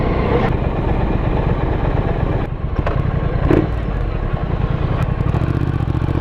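A Triumph Truxton motorcycle being ridden on the road, its engine droning steadily and loud throughout with wind rush and a few brief clatters, no voices.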